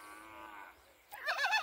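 An eight-month-old male goat on a goat farm gives one drawn-out bleat up close, followed by a brief burst of rustling.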